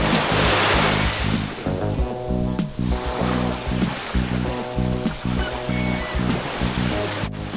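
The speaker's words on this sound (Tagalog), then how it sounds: "wala kang marinig kundi alon lang ng dagat" Sea waves wash steadily onto a nearby island shore in a loud continuous rush, with a low droning hum running underneath throughout.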